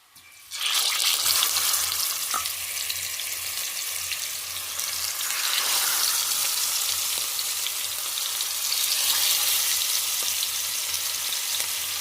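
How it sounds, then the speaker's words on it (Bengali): Hilsa fish frying in hot oil, a loud steady sizzle that starts abruptly and holds with slight swells throughout, with a low hum underneath and no speech. "এখানে আমি ইলিশ মাছগুলো দিয়ে দিব প্রথমে ইলিশ মাছটা ভেজে নিব"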